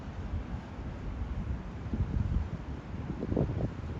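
Steady wind on a riverbank of the River Tyne by the Copthorne Hotel, buffeting the microphone as a continuous low rumbling roar that swells in a couple of stronger gusts, with no voices.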